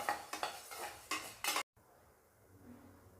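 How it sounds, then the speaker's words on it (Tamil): Coriander seeds dry-roasted in a pan and stirred, heard as close scraping and rattling strokes of a utensil against metal that stop abruptly, leaving a quiet room hum. "ஸோ இப்போ இதை நல்லா வாசனை வர அளவுக்கு தனியாவை வறுத்துக்கணும்."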